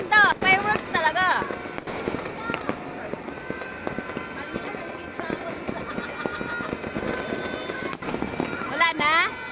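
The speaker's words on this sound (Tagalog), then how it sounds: "Fireworks talaga!" New Year's fireworks bang and crackle in a steady barrage, with whistling bursts near the start and end, while excited voices cheer and talk over them.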